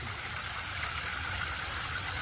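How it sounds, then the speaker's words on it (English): Water from a small waterfall in a backyard koi pond splashes and rushes in a steady, broad hiss, continuous and fairly close, with no voices over it. "Love that little secret waterfall coming out of nowhere right down there"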